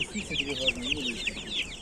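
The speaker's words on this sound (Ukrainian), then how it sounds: "А ото оті утята, гусята." Ducklings and goslings at a central market in Cherkasy peep and cheep in quick, high, repeated calls at close range, with low murmuring voices nearby.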